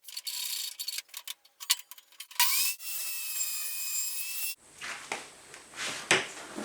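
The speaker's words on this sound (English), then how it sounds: "I'm going to do this front edge on the table saw" Sharp intermittent bursts of a table saw biting into wood along a boat's front edge, then a sustained high whine of the blade cutting through, followed by softer scraping and rubbing.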